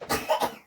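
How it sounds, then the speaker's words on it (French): A person coughs twice in quick succession, close and moderately loud, with a short wet rasp trailing off after each cough and no talk around it. "Si, tu tousses."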